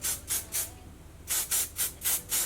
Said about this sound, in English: I'm gonna take some of this hairspray.